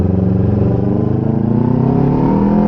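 A Kawasaki Ninja 250 FI motorcycle fitted with a Python aftermarket exhaust revs loudly and steadily up close, its buzzing engine note climbing in pitch throughout, with no other sounds.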